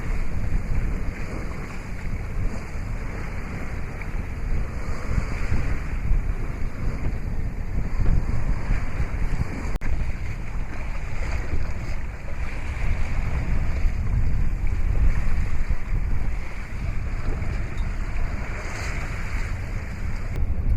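Sailboat under way in winds up to about 15 knots, with steady wind buffeting the microphone and a constant rushing of water along the hull, no speech.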